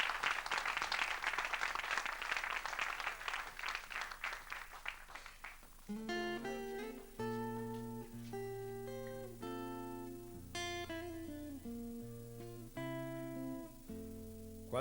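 A crowd claps for a folk duet at an outdoor concert, the applause dense and rhythmic for about six seconds before fading as the music starts up and carries on alone.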